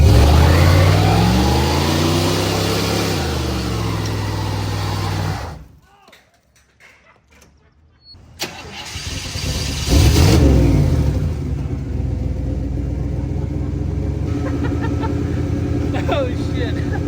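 A Chevy wagon's engine revs hard through a burnout with its wheels spinning, loud and sustained, dropping to near silence for a couple of seconds before the engine roars back; people talk and exclaim over it.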